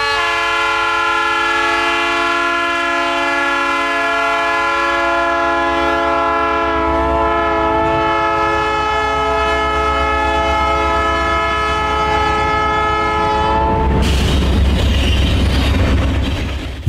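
A GE B23-7 high hood diesel locomotive in industrial revenue service sounds a long, loud, sustained chord horn for about fourteen seconds over engine rumble, then the horn stops and the engine and rail noise carry on.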